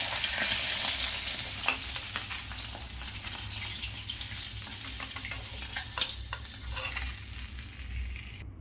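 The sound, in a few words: fish frying in oil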